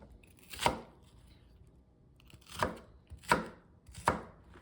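Knife chopping onion on a board in a home kitchen, four sharp, close thuds spaced unevenly over a quiet background.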